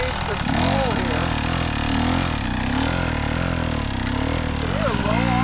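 A motorcycle engine turns over at low RPM during rider training, a steady throbbing hum whose pitch wavers slightly, with a voice talking over it throughout.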